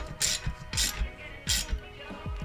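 A hand ratchet clicks in quick bursts while tightening a bolt on a universal seat bracket for a Braum racing seat, close and loud, with three rapid clicking strokes and lighter returns between them.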